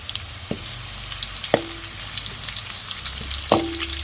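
Cashews and raisins frying in a pan of hot oil for chicken biryani, a steady close sizzle with crackling pops, broken by three clear knocks of a spoon against the pan while stirring.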